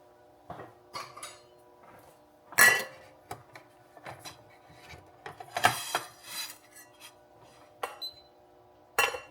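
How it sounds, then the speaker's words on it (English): An Amazon Wi-Fi cat food dispenser with a camera drops dry kibble into its bowl, giving close, irregular bursts of rattling and clattering with quiet gaps between them and no talking. "it's gonna automatically dispense another 2 portions because of the time that I set"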